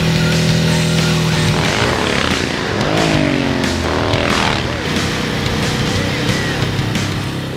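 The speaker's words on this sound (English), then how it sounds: "It has a sort of a racing engine in it compared to our production motorcycles. It has a dual exhaust system" A racing motorcycle engine with a dual exhaust system in the game Cyberpunk 2077 revs loudly and continuously, its pitch sweeping up and down through several throttle blips, up close and dominant.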